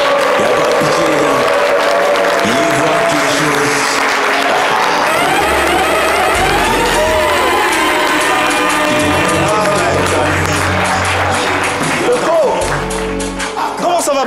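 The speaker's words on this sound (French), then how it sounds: "Merci de l'applaudir." A television studio audience applauds and cheers to welcome guest Pat Koyaou. The clapping and crowd noise are sustained and loud, with music and voices mixed in.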